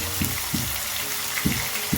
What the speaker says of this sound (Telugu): వాటర్ అంతా డ్రైన్ చేసుకొని వేసుకోవాలి.